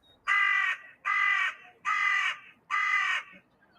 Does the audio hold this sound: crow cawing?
yes